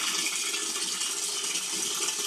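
Water pours steadily into plastic buckets being filled for storage, a continuous loud hiss and splash with no break and no voices.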